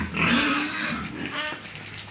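Pigs grunt and squeal continuously on a pig farm, close and fairly loud, with a farm hum underneath and no talking.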